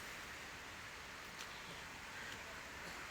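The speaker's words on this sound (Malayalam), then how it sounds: "മഴ പെയ്തുകൊണ്ടിരിക്കുകയാണ്." Rain falling outdoors, a steady, faint, even hiss of drops that stays constant throughout with no voices.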